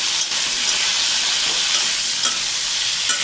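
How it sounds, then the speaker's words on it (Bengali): Salted food stirred in a hot frying pan gives a steady, dense sizzle with faint scraping, continuous and close. "অল্প একটু নুন দিয়ে আমি এটা নেড়ে চেড়ে একটু ঢাকা দিয়ে রাখবো"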